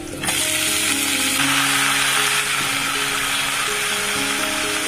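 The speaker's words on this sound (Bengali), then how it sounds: "এখন করবো একটু আলু পটল ভাজা" Potatoes and pointed gourd frying in a pan give a loud, steady sizzle that begins almost at once and runs without a break, with a faint tonal hum underneath and no talking.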